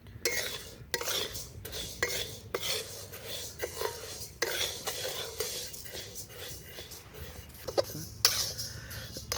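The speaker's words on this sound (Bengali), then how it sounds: "মুগ ডাল আছে, এইটাকে আমরা ভালো করে ভেজে নেব।" Dry mung dal being fried and stirred in a pan for winter khichuri, with a spoon scraping and clinking against the metal in bursts. The rhythm is irregular and close, with light rustling between strokes.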